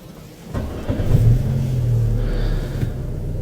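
A Chery Tiggo 5X engine starts from silence, heard from inside the cabin, and settles straight into a loud, low idle rumble carrying a booming resonant hum.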